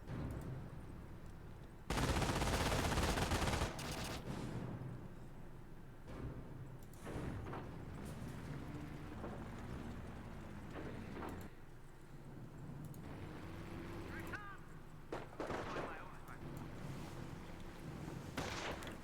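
Gunfire and artillery in the World War II strategy game Company of Heroes, with a loud sustained burst of machine-gun fire early on, then scattered shots and distant booms over a busy battlefield din.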